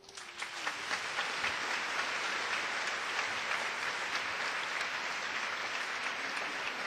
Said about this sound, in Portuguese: Eu queria que você aplaudisse o amor do Pai.